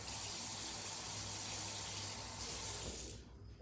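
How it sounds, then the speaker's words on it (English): Warm water gushes steadily from a kitchen tap into a measuring cup, a loud continuous splashing that cuts off near the end. "Warm water."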